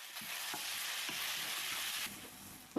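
Sliced onion with salt and curry leaves sizzling in a pan for Kerala-style chicken curry, a steady quiet hiss with a few soft stirring scrapes and a clunk at the end.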